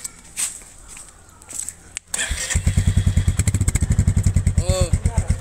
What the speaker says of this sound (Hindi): इस पहले इसके एग्जॉस्ट की आवाज़ सुनो